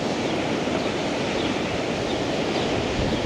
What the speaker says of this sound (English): It's very windy today